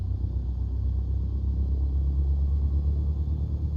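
A simulated aircraft engine in Flight Simulator 2020 being throttled up on the ground gives a steady, loud, low droning rumble that holds constant throughout, with no voices.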